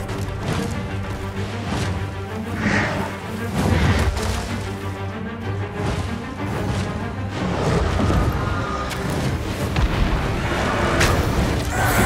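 Gunfire and heavy impacts against a dragon's wing in Dragon's Dogma 2, with repeated booming shots and crashes sounding through a steady, dense battle din.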